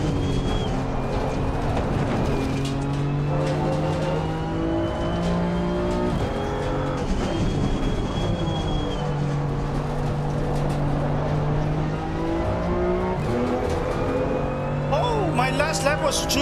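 A BMW M2 race car engine howls around Imola in the ACC racing game, revving up and down through gear shifts continuously, loud and close, with brief tire noise near the end.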